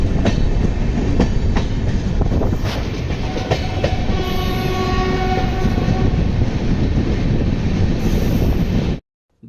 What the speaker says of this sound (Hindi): दूसरे ट्रेनों के मुकाबले शताब्दी बड़ी ही जल्दी स्पीड पकड़ती है